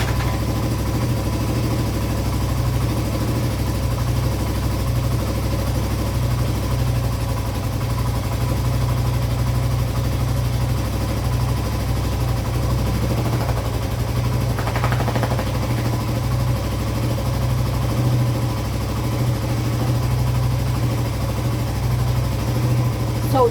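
A 1982 Yamaha XT200 motorcycle engine idles steadily just after a kickstart, a continuous low mechanical drone with faint vibration, close and unbroken for the whole stretch with no talk over it.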